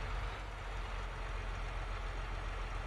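A tractor engine runs steadily in Farming Simulator 22, a low continuous rumble at moderate, even level with no talk.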